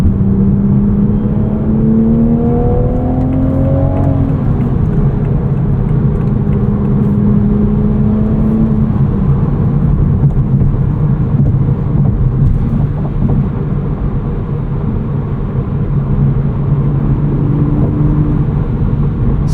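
A 2024 Toyota GR Supra 45th Anniversary Edition with a manual gearbox and twin-scroll turbo drones loudly from inside the cabin, rising in pitch as it pulls hard, with a steady roar and whirring throughout.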